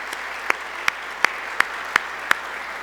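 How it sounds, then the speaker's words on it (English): Applause rises at a university gathering honoring departing staff, a soft bed of crowd clapping punctuated by six sharp, evenly spaced loud claps close by. "I would just like us all to give them a round of applause"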